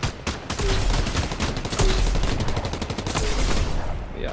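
Rapid bursts of gunfire in a video game, a dense run of sharp cracks and automatic fire that is loud and close, continuing steadily across the whole stretch.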